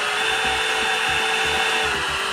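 A power drill boring a pilot hole into wood in a home garage, a loud steady whine held throughout with a rhythmic low chatter beneath it, close and alone.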